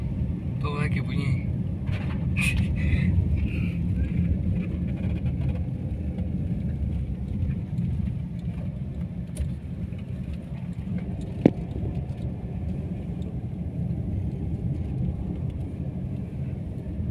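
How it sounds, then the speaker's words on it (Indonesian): A fuel well pump engine at the Migas Cepu oil field runs with a steady low rumble that holds across the whole stretch, with people talking faintly over it. "Itu mesin sumur bahan bakar."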